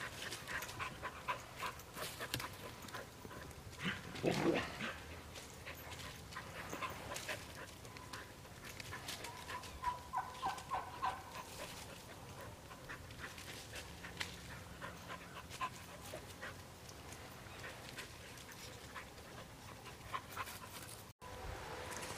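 An older Great Pyrenees livestock guardian dog pants steadily and whimpers now and then on a homestead, close and moderately loud with no talking.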